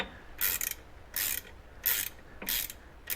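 A ratchet wrench with a 19 mm metric socket starts a bolt while fitting a Hellwig 7744 sway bar on a Toyota Tacoma, giving four bursts of rapid clicking with short pauses between, close and alone.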